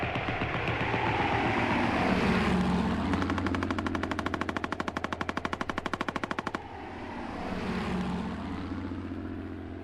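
A droning World War I propeller aircraft passes while a machine gun fires a long rapid burst of evenly spaced shots, then the engine roar swells again.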